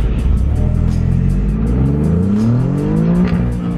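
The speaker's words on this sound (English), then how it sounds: "Pop's well on first gear limiter though." Alfa Romeo Quadrifoglio engine held on the first-gear rev limiter during a Goodwood hill climb, loud and continuous with rising harmonic sweeps and crackling exhaust pops, close and sustained without talk.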